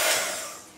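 Steady airy blowing of a heat gun drying glue on a cord, a continuous broadband hiss that fades slightly over under a second, with no talk.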